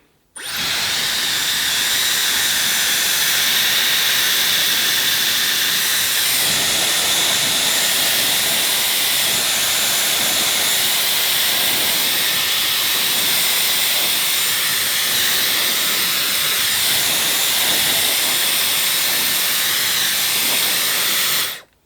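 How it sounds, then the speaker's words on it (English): A Dyson Airwrap hair dryer runs on speed 3, heat 3, a loud steady rushing whine of air that starts abruptly and holds unbroken for about twenty seconds before cutting off. "So I'm going to go right ahead and start on speed 3, heat 3, and then just the on button."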